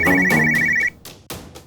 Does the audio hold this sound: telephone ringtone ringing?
yes